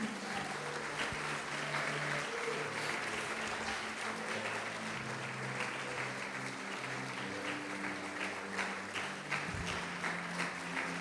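A church congregation applauds during a sermon, a dense continuous roar of clapping that fills the whole stretch at an even level, with faint voices underneath.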